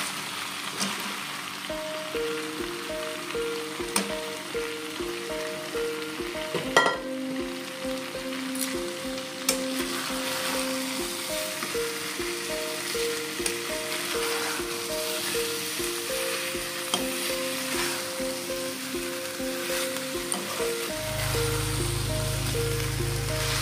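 Young jackfruit and potato fry in a pan, a constant crackling sizzle like light rain with scattered pops and small clatters, close and steady, joined by a low hum near the end.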